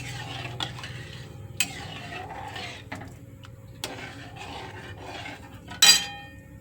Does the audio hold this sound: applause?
no